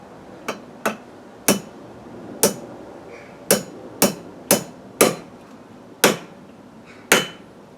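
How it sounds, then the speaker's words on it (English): A hammer strikes about eleven times, driving an axe head onto its wooden handle, each blow sharp and ringing, spaced unevenly with short pauses, close by and alone. "all I'm going to do now is just drive that in with my hammer."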